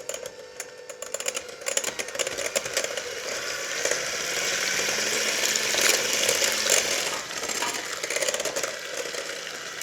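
A whisk beats condensed milk into lime and passion fruit juice in a bowl, making quick, rapid clicking and scraping close by with no talk.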